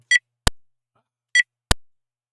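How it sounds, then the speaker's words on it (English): Two identical short electronic beep sounds in a self-made word game, each a bright tonal blip followed by a sharp click, repeated about a second apart in otherwise silent surroundings. "Is that the beep? That is the beep."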